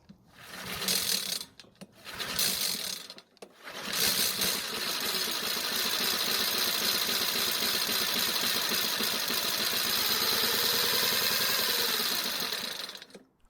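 A Honda lawn mower engine, primed by hand with gas at the carburetor, sputters in a couple of short bursts, then catches and runs steadily and loudly for several seconds before cutting out.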